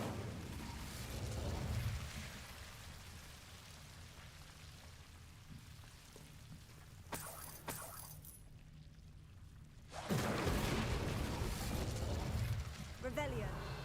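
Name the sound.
Incendio fire spell effect in the Hogwarts video game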